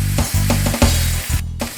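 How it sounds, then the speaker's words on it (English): Liver and onions sizzling loudly in a single pan, a continuous close frying hiss broken by a few brief stirring or flipping bumps. "Flip over again and let the onions get under the liver so they fry as well."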